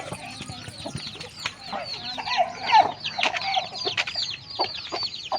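A hen clucking up close in a village yard, a run of short, uneven clucks and squawks of varying loudness with other birds faint in the background.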